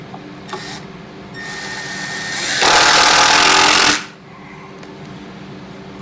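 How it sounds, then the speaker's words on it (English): A power driver screws into a twisted 2x4 stud board, a close whirring drive that builds over a few seconds into a loud, harsh burst of grinding as the screw bites, then cuts off sharply. "This board is a little twisted. I'm screwing the bottom part,"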